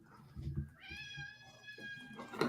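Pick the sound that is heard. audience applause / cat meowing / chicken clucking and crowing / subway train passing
cat meowing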